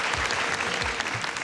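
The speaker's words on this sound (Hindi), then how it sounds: "हमारे जज साहिबान के लिए बहुत सारी तालियां बजा दें भाई" A studio audience claps for the judges at a Pakistani Independence Day TV show, a short, dense wash of applause close and even from start to finish.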